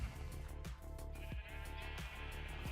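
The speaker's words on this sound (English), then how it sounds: "Come here, my sheeps." Sheep in a video game bleat repeatedly in clear, steady calls over a constant background game tone, with no one talking.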